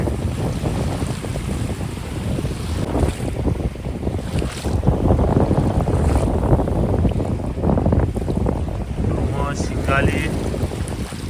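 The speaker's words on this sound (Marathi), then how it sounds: "हा आज हवा भरपूर सुटली." Strong wind buffets a fishing boat at sea, roaring loudly across the microphone over churning water and engine rumble, with faint voices in the background.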